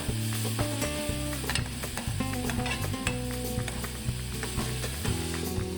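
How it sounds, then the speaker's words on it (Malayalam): Crushed onions are stirred and sautéed in a pan. They give a continuous loud sizzle broken by frequent clicking scrapes of a spoon against the pan. "ഇത് നന്നായിട്ട് വഴണ്ടി വരുന്നവരെ നമുക്ക് ഇളക്കാം."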